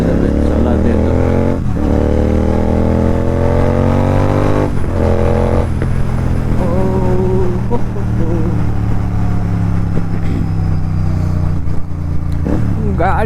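A Royal Enfield GT 650 motorcycle engine thumps and drones loudly while riding, with revs climbing and falling across gear changes and steady wind and road rumble underneath.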